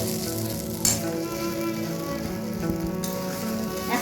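Spice paste of tomato and ginger with whole garam masala frying on a low gas flame for a vegetarian pointed gourd dish, giving a dense, steady close sizzle with spattering pops and no talk.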